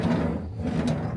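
A kitchen drawer slides open in a harbour inn suite, a brief wooden scraping rumble that is close and moderately loud, with no talk over it.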